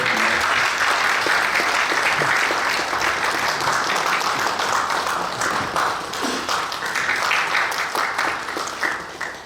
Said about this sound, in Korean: 큰 박수로 축하드립시오